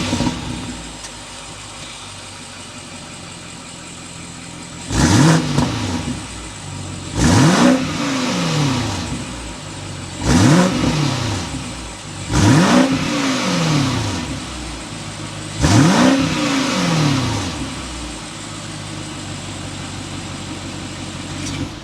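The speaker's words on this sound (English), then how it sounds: "We need to go inside, start it up so you can hear that exhaust note." A 2023 BMW X6 M50i with its twin-turbo V8 revs five times in sharp bursts from a low idle, each rev climbing quickly and falling back, loud and close with no talk.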